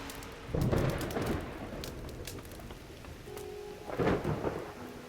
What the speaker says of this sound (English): Yeah, it's starting to get a little stormy.